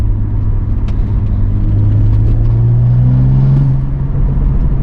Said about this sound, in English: Do you guys hear a turbo sound or what?